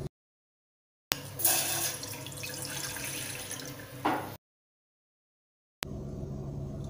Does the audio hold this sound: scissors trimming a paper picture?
no